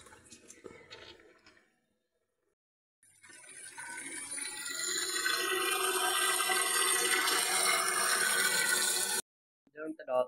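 Water gushes steadily into buckets at a village, a loud, continuous rushing splash lasting several seconds before stopping abruptly, with brief handling noises around it.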